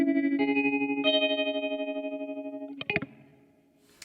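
Guitar chords pulsed by an Anasounds Sliver tremolo pedal at a fast rate, the sustained notes throbbing in a quick, even volume flutter before a short strummed flourish and fade.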